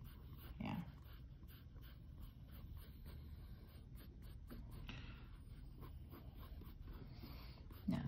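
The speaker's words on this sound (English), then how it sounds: "I'm going to draw one, I think." Pen or marker strokes scratch across paper while Easter eggs are drawn, a soft, steady scribbling with a dog panting and whimpering close by, low room noise and no talking.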